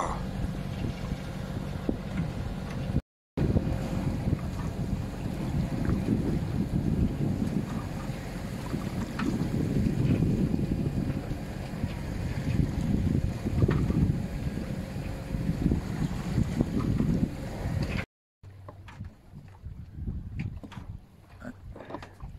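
Light wind buffets the microphone with a low, rumbling whoosh over soft water and sailboat noises near Cadaqués, steady throughout with two brief cuts.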